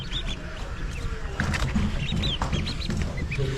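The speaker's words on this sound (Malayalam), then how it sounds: "താറാവ് കുഞ്ഞുങ്ങൾ വിരിഞ്ഞിറങ്ങേണ്ടത് എല്ലാം പ്യുവർ കുട്ടനാടൻ താറാവാണ്" Newly hatched Kuttanad ducklings peep in a busy, overlapping chorus of short high chirps, fairly close and steady throughout over a low background rumble.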